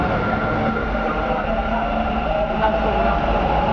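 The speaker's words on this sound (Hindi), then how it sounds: "उसके बाद हमने पकड़ी मेट्रो ट्रेन" Bangalore metro train running, a steady loud rumble with broadband rolling noise and a low hum throughout, heard from inside or right beside the carriage.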